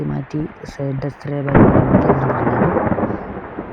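Heavy rain pours with a deep rumble of thunder, a dense steady roar swelling suddenly after someone speaks briefly at the start.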